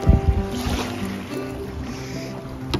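Wind buffets the microphone while waves slap against a canoe on Darling Lake, North Dakota, making a steady, loud rush with low thumps of water hitting the hull, strongest at the start.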